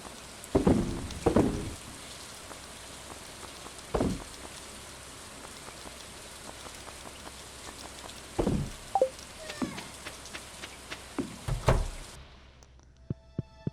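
Steady in-game rain hisses and patters in Stardew Valley, broken by a few soft thumps and clicks, before the downpour cuts off near the end; no one speaks.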